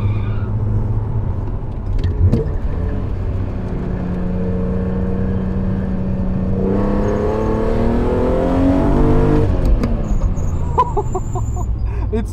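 A BMW Z4 M Coupe with the S54 engine revs high on a racetrack, its rising engine tone climbing loudly and pulling away, then surging again near the end.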